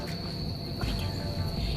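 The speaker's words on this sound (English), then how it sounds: "Listen to the crickets," Crickets chirping at Heritage Harbor on the Illinois River in Ottawa, Illinois, a faint steady high trill under low outdoor rumble and background noise.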